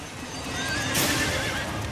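A horse gives a loud, close whinny as it loses its balance, the shrill neigh rising midway through and ringing on under a faint clatter of hooves.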